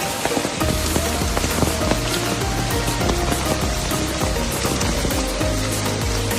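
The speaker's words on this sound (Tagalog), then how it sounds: "Umuulan yan mula pa kagabi." Steady rain falls at a campsite, a dense continuous patter of drops on surfaces with occasional louder drips, filling the whole stretch with no talk.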